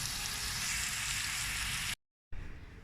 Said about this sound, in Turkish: Kabaklarımı iyice kızartacağım.